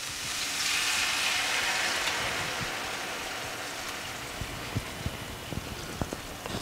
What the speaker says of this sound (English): So we are going to deglaze with about a cup of red wine.